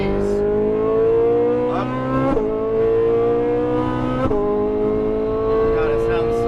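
A Lamborghini Huracan Performante on a race track in Las Vegas: a loud, close engine note climbs and drops through two quick gear shifts, with a brief word spoken over it.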